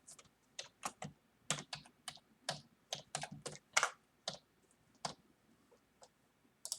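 Rapid, uneven keystrokes on a computer keyboard while typing code, crisp clicks arriving in short bursts with brief pauses, close and fairly quiet with no talking.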